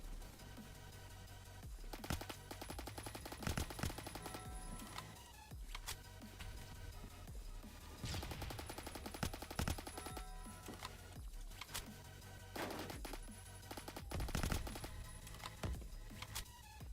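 Rapid bursts of gunfire from a Scar H rifle chambered in 7.62 in the Roblox shooter Phantom Forces, with repeated clusters of sharp shots loud over constant game background noise.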